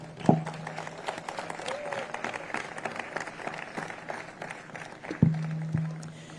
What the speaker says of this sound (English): I'm asking you to give India a special round of applause